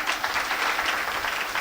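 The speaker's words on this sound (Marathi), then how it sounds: "दोघांसाठी जोरदार टाळ्या." An audience at a kirtan gives a burst of dense, steady clapping, a continuous crowd applause filling the short moment without talking.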